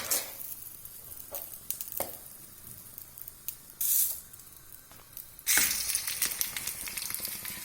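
Green chillies frying in a pan sizzle and crackle unevenly, with bursts of louder spattering and occasional stirring scrapes, close and alone with no talking.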